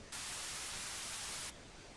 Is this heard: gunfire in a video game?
no